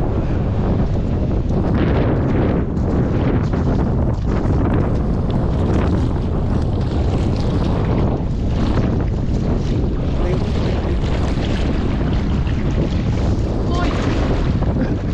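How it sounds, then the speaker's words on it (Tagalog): Strong wind at sea buffets a boat, roaring as loud continuous wind noise over the microphone, mixed with water rush and surf, with faint voices underneath. "Malakas ang hangin."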